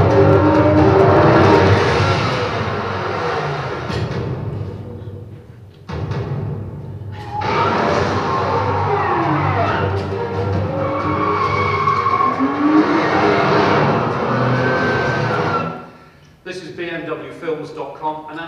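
Cars in a BMW Films advert chase scene rev and skid, with repeated tire squeals, engine roars and a thud, broken by short pauses. The sounds are loud and close, and voices are mixed in.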